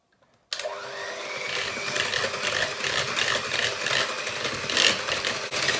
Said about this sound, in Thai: ใส่น้ำมะนาวลงไปค่ะ แล้วก็ตีด้วยความเร็วสูงนะคะ